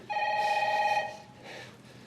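A telephone bell rings loud and close for about a second, a steady electronic trill, then begins a second, fainter ring before cutting off.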